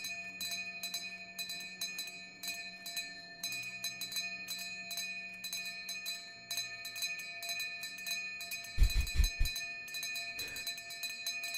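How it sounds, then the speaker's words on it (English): Bells ringing in The Division 2 video game, repeated bright metallic strikes in an irregular rhythm over a steady sustained tone, with a few low thuds near the end. "And so the bells begin."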